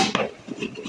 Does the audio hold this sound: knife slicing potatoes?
yes